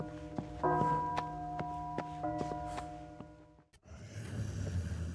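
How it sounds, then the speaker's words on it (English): Bell tolling in a horror video game, a series of clear resonant strikes with long ringing overtones over about four seconds, followed by a dull rumbling ambience. "The bell's ringing."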